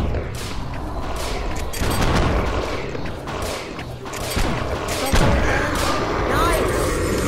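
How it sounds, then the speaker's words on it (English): Repeated gunfire and heavy booms from a video game firefight, loud and close, arriving in irregular bursts while a player talks over the action. "I'm gonna shoot him."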